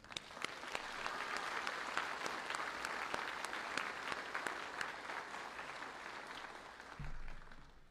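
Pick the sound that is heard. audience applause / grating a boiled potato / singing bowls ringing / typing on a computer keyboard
audience applause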